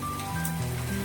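Heavy monsoon rain falls in Ahwa in the Dang district, a dense, steady hiss of drops on surfaces that stays even throughout, with no voices.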